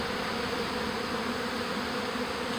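A swarm of honey bees produces a dense, steady buzzing drone, close and constant with no pauses.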